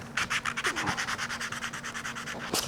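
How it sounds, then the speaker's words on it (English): Rhythmic back-and-forth rubbing as 180 grit sandpaper is worked by hand over a wooden plane knob to take off the old finish, close and even strokes at a quick steady pace. "I'm just going to use a little bit of sandpaper. This is a 180 grit, and just kind of lightly sand the finish off of it"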